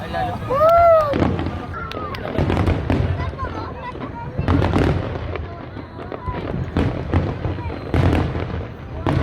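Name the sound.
fireworks exploding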